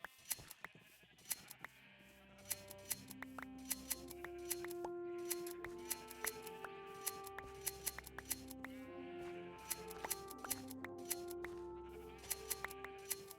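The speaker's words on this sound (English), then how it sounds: "And we will do our sheep shearing." Sheep are sheared with shears in a video game, with crisp repeated snipping clicks over a soft mix of overlapping sheep bleats, quiet and continuous.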